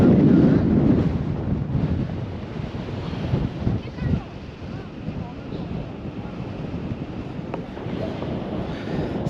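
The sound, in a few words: strong wind blowing on a hillside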